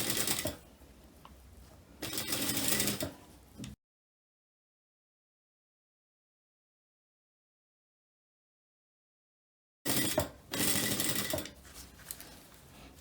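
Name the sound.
sewing machine sewing an invisible zipper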